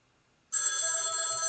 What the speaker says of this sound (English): Old school ringtone, man.